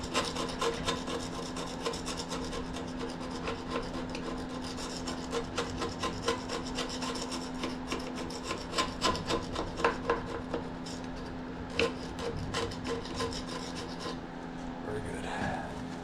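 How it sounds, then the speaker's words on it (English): A gasket scraper rasps carbon deposits off the top of a piston in a Snapper push mower engine, making close, gritty scraping strokes in an uneven rhythm that turns quicker and harsher toward the end. "See if we can scrape some of that carnage off the top of that piston."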